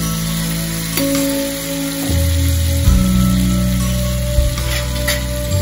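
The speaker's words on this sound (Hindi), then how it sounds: "बटर डालते ही मैं इसमें 2 टेबलस्पून मैदा के डाल दूंगी।" Two tablespoons of butter and two tablespoons of flour roast in a pan for a gratin sauce, giving a steady sizzle over a low hum, with a few stirring scrapes and no voices.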